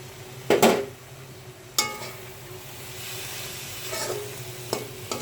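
A carrot laddu mixture stirred in a pan with ghee: a low steady sizzle punctuated by a few sharp metallic spatula scrapes and knocks against the pan, no voices.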